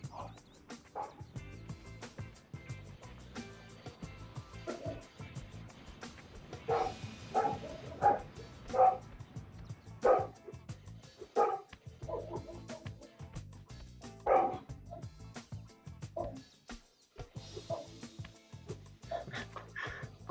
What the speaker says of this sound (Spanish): escuchar a los perros de la llamada